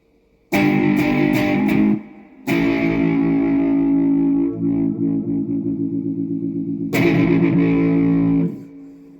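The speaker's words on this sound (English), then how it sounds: "Just on my overdriven sound, dirty, coming out of the orange Super Crush 100 is beautiful." Heavily overdriven electric guitar riffs and sustained chords through a loud Orange Super Crush 100 amp, played in bursts with short pauses, no voices.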